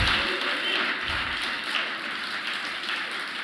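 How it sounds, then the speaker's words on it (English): An audience at a coaching conference claps steadily together. The dense patter of many hands is loud and even and lasts the whole stretch, with no voices over it. "Give yourself a hand clap"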